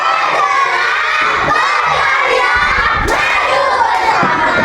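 Primary school pupils in a classroom at SD Negeri 27 Pemecutan cheer and shout loudly with some clapping, a dense, unbroken burst of young voices that stays at full intensity throughout.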